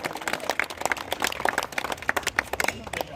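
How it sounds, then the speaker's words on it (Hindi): Applause from the crowd at a ground-breaking ceremony for a concrete road and drain project: scattered, uneven hand claps from a modest group nearby, with individual claps standing out in an irregular rhythm throughout. "तालियों की कोई कमी नहीं होनी चाहिए।"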